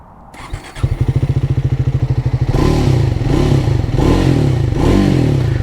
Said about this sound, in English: Lovely sound from that single cylinder 40 horsepower engine.